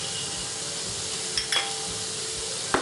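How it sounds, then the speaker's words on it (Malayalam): Onion sautéing with salt in a pan for millet upma gives a steady close sizzle, with a few sharp utensil scrapes and clinks breaking through near the middle and at the end. "നമുക്ക് നന്നായിട്ടൊന്ന് വഴറ്റി കൊടുക്കാം."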